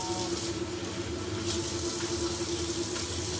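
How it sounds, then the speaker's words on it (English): Hot water running from a sink tap into a sink where knife blades are being washed, a steady, moderate splashing stream with a faint hum beneath and no talk. "Get some hot water going."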